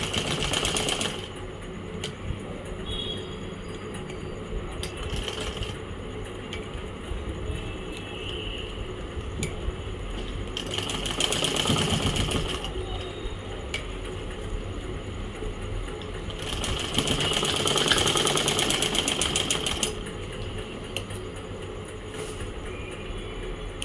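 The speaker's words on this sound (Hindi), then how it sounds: "और ये ऐसे सिलाई मार दो।" Domestic sewing machine stitching a small baby frock, its quiet motor whirring in several short bursts against a low background hum, with pauses between runs of stitching.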